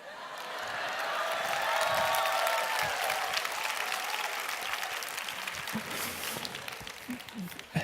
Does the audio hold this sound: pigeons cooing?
no